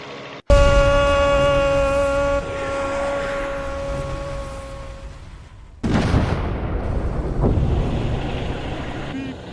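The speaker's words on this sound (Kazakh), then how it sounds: "Зеңбірек атылды." A sharp blast opens into a sustained droning tone, then a second loud cannon-like boom bursts out and trails off into rumbling noise.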